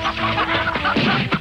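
Barnyard hens squawk and cluck in a brief, loud, agitated burst, close by, in a cartoon chase scene.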